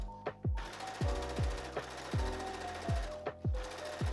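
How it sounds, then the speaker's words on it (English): A sewing machine runs a straight stitch across the gathered, ruffled edge of a puffy dress sleeve, making a series of sharp, evenly spaced mechanical knocks at moderate volume. "I'm going to go ahead and put a straight stitch across this ruffled edge"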